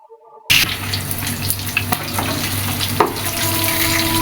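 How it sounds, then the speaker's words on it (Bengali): Rui fish fries in a pan, a steady close-up sizzle that starts abruptly and holds for about four seconds with a few faint clinks. "আর এক পাশও ভেজে নেব"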